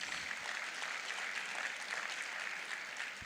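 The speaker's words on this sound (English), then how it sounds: "Yes, please clap." Audience applause at a female achievers' award ceremony, a steady dense wash of many hands clapping that holds evenly for about three seconds with no speech over it.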